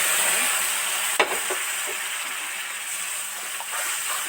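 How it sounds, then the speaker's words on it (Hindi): Water goes into semolina roasting in a pan for suji halwa, making a loud, continuous hiss and sizzle with bubbling, plus a few faint clinks. "अब माशाल्लाह से खुशबू आने लग गई है और हमने इसके अंदर पानी डाल देना है 2 गिलास।"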